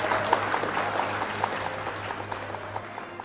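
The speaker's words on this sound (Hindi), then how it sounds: "जोरदार तालियों से इनका इस्तकबाल कीजिए" A hall audience welcomes the poet Amrita Pritam to the stage with moderate, even applause that keeps going under a low steady hum.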